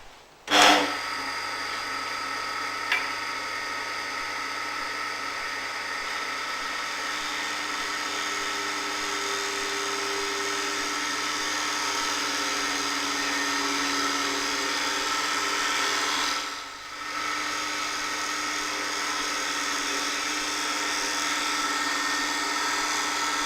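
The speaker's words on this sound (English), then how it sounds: "by backing the tool off, turning the tool anti-clockwise to reduce the amount of cutter used, we can create a finer cut" A wood lathe shear scraping with a Robert Sorby multi tip tool, the cutter backed off and angled for a finer cut, gives a steady, continuous high whine and hiss that runs unbroken for the whole stretch, with one brief dip near the end.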